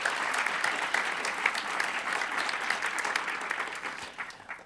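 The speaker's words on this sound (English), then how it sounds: "so big round of applause" Conference audience giving a sustained round of applause, a dense even wash of many hands clapping at a moderate distance, with no talk over it.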